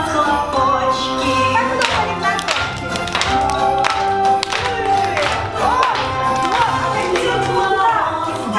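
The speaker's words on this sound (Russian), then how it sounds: "посмотри-ка, дедушка, есть у нас хлопочки" Children clapping together at a New Year's kindergarten party, a steady dense patter of small hands over festive music, with bright tones and crowd noise continuing throughout.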